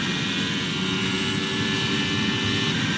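A steady, loud engine roar holds throughout, a high-revving Alfa Romeo Formula 1 car during 2022 Saudi Arabian Grand Prix qualifying, with a constant whine and no speech.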